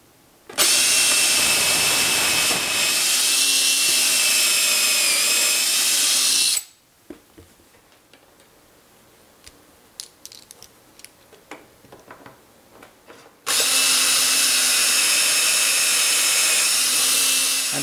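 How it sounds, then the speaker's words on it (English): A power drill bores pocket holes into the underside of wooden shelves for a cat climber, two loud sustained high-pitched whirring bursts separated by a quieter stretch of clicks and handling noises. "I'm going to put one pocket hole here and here. Of course, I'll be drilling them on the bottom side."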